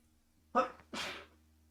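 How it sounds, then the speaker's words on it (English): One quick sneeze, a sharp intake followed by a burst, close but fairly soft against a low background hum. "Excuse me. Sneezing."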